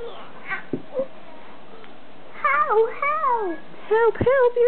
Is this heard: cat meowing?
yes